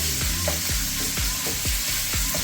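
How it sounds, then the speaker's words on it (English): Ground pork frying in a hot pan with garlic and pepper for a holy basil stir-fry, a loud steady sizzle broken by regular scraping strokes of a spatula stirring the meat, close up with no talking. "So let's get this pork going, broken up and cooked up."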